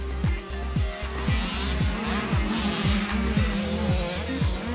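Motocross bikes racing on a dirt track, a loud engine note that rises and drops over and over in quick cycles as riders shift through gears, close and continuous.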